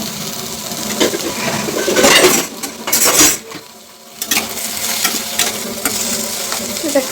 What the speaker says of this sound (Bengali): এখন তেল গরম হয়ে গেছে, উচ্ছে আলুটা দিয়ে দেবো।